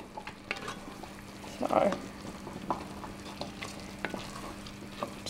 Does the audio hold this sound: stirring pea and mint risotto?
yes